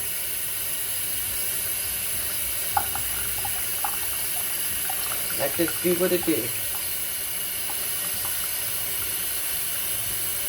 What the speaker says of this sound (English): now I'm going to just go ahead and put the water in there